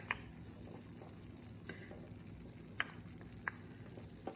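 Onions and minced garlic frying in a pan for hamburger gravy, a soft, quiet sizzle with a few light clicks of a utensil against the pan.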